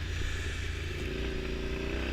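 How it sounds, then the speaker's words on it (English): A Triumph Scrambler 865cc motorcycle fitted with an aftermarket exhaust gives a low, steady growl at moderate distance, a brief continuous engine rumble with no speech. "with the aftermarket exhaust, this bike just has such a nice growl to it"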